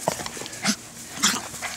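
A young puppy whimpers in a few short, high, thin whines with small yips between them, close by and fairly quiet, with brief pauses after a bout of running outdoors.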